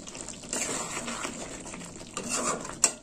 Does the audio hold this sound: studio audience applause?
no